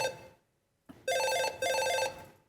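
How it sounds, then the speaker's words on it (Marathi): A phone ringtone goes off during a Marathi comedy stage sketch, ringing loud and close in two bright, repeating melodic bursts after a short pause. No one speaks over it. "काय रिंगटोन ठेवले ही फोनची"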